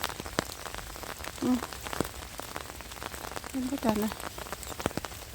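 Rain falls in a wet German forest in winter during mushroom picking. Scattered drops tap and patter on leaves and surfaces nearby, while someone speaks briefly now and then.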